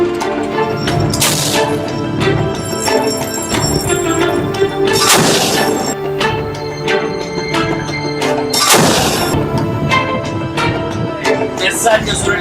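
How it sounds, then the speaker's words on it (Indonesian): Repeated heavy blasts from an OTO Melara 76/62 SR naval gun aboard Indonesian Navy ship KRI RIM 331 ring out over a continuous mechanical hum, with several sharp booms spaced a few seconds apart. "Penembakan Meriam Oto 7662 SR KRI RIM 331 TNI AL di Australia jadi pusat perhatian"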